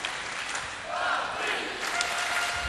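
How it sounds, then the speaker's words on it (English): A table tennis arena crowd chants the name of German player Patrick Franziska, a steady, swelling roar of many voices filling the hall throughout. "The crowd chanting the name of the German."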